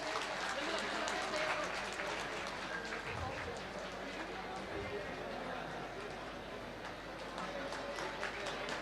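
A crowd at a Saraswati Puja stage event claps steadily and continuously, the dense clapping running under chatter and a voice over the whole stretch.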